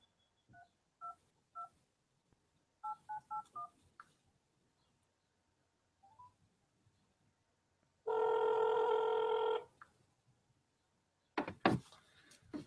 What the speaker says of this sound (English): I'm going to go ahead and just make this phone call now